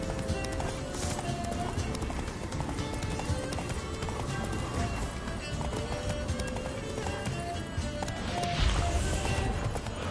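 Horse hooves gallop in a steady, rapid clip-clop rhythm in The Witcher 3, loud and close, with game music and ambience underneath and a brief snort or whinny near the end.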